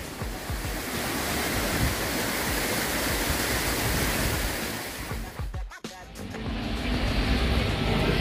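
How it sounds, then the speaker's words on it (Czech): Waterfalls at Fuentes de Algar roar with a continuous broadband rush of falling water, loud and steady, with a brief dip and disturbance near the end. "když je ta možnost podívat se na vodopády, tak jsme toho využili"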